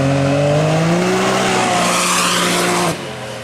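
A Can-Am X3 Evo side-by-side fitted with a catless downpipe and stock muffler with spark arrestor revs loudly at close range, engine pitch climbing steadily before dropping sharply near the end, with no voices.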